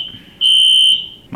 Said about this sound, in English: Our school is testing the fire alarms right now